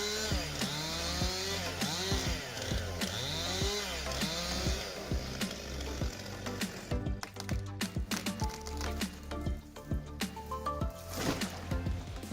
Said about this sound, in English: this chainsaw is a symphony of raw power and precision